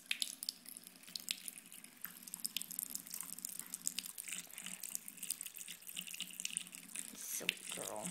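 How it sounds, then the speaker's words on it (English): A dog drinks from a running sink faucet, with a steady wash of tap water splashing into the basin throughout, close and fairly loud with small spattering drips. "This is Daisy drinking from the sink"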